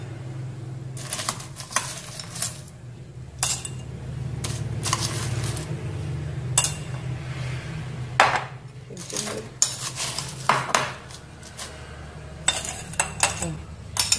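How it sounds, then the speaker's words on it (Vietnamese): Small pieces of shaved ice are scooped into a cup for a coffee yogurt smoothie, giving repeated crisp clinks and rattles in uneven bursts over a low background hum, close and fairly loud. "Chúng ta sẽ cho đá bào vào này."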